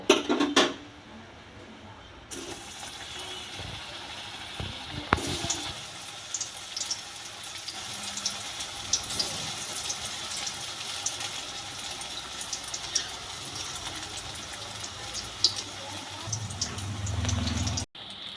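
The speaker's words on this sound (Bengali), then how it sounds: "কড়াইতে তেলও ঢেলে দিয়েছি তেলটা খুব ভালোভাবে গরম হয়ে গেছে এবার কোপ্তাগুলো একটা একটা করে আমি ভেজে নেব" Raw banana koftas sizzle in hot oil in a wok for a Bengali-style kofta curry, a steady, close, hissing crackle that runs unbroken and rises slightly near the end.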